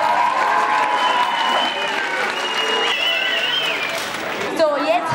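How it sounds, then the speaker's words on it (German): An audience claps and cheers at a 1997 talent show, a sustained burst of applause with voices audible within the crowd noise throughout. "einen grossen Applaus für die drei Girls"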